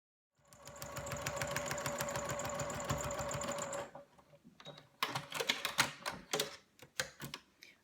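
A domestic sewing machine runs a steady, rapid stitch across a feathered star quilt block seam with a very short stitch length, passing over pins. Close and loud for about three seconds, then it stops and sharp clicks and handling noises follow.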